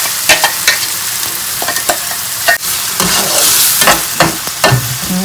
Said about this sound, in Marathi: याला छान आपण परतून घेऊया.